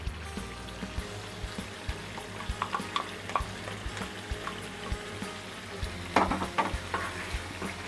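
Cashews and fried onion paste frying in a masala for green chicken korma, a close, steady sizzle with a run of stirring scrapes and soft clinks, ending in a louder burst of scraping, with no talk.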